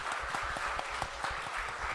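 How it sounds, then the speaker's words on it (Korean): A church congregation at a Sunday service claps in steady, dense applause that sounds moderately close and continues evenly throughout, with no talking over it. "자, 박수 한번 보내겠습니다."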